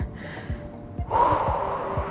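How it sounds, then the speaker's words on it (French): During a cardio breathing exercise for the abs and thighs, a person pushes out one long, forceful exhalation that starts after a pause and carries on steadily over a soft, regular background beat. "on va faire 15 expirations longues en poussant la tête dans les mains"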